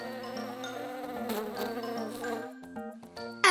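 A buzzing bee in a French children's cartoon drones over a light, tonal musical background, steady and moderately loud for a few seconds.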